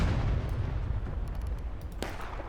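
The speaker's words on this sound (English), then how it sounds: "That artillery sound is very loud." In the multiplayer video game War of Rights, set at Antietam, a deep artillery boom opens the clip with a low rumbling tail, and sharper distant musket-like cracks pop during the decay.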